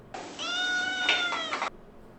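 A single drawn-out cat meow lasting about a second and a half, clear and moderately loud, with no other sound around it.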